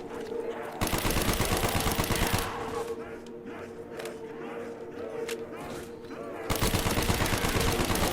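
Rapid bursts of gunfire in the video game Black Ops Zombies on the Kino Der Toten map, sustained automatic fire in two long stretches with scattered shots and zombie noises between.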